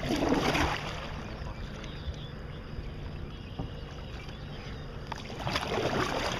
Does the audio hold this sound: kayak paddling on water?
yes